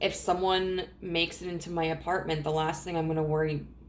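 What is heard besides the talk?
No everyday noise stands out behind the speech.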